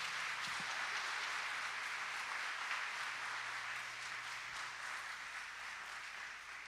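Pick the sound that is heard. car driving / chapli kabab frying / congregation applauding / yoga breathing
congregation applauding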